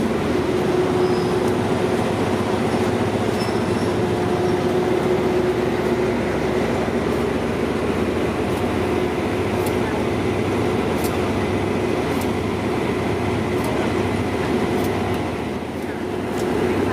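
A Kiha 183 diesel train at Bang Sue station in Bangkok, a steady loud rumble of engine and rail noise with a faint whine, continuous throughout with people talking faintly underneath.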